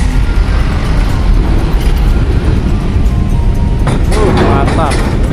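Buses queue to roll off a car ferry's deck in a loud, steady low rumble of diesel engines and road noise, with a brief hiss near the end; people talk over it.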